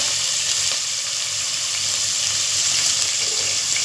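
Ginger garlic paste frying in a pan as the base for chicken curry, giving a steady close broadband sizzle with faint stirring, no talk over it.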